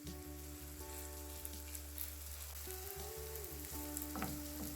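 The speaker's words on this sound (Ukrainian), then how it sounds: "Смажимо на розігрітій олії до золотистого кольору з обох боків." Steady sizzle of pumpkin fritters frying in hot oil, a continuous crackling hiss with occasional soft pops and a faint clink near the end.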